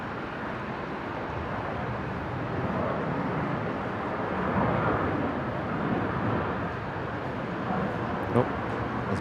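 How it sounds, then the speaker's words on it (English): A Virgin Australia passenger jet, flight 323 from Melbourne, touching down on runway 19 left at Brisbane Airport, heard as a broad, steady roar of engine and rushing air that swells slightly midway, distant and continuous. "Virgin 323, just touching down here"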